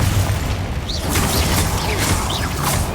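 Confringo blasting spell in the wizarding game Hogwarts Legacy: loud, dense booms and crashing bursts fill the whole span, with whooshing spell effects layered on top at close range.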